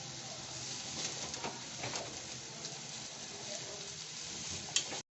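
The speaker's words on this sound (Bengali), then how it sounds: "এটা পুটপুট আওয়াজ হচ্ছে আর ভাজা হয়ে গেছে" Rice fries in a pan before going into a pressure cooker for mutton keema pulao, giving a steady close crackle sprinkled with small scattered pops throughout, with no talking.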